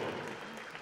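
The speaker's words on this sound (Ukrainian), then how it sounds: "Оплески кожному." Audience applauding the fighters at a WWFC mixed martial arts event, a brief burst of dense, steady clapping from a crowd.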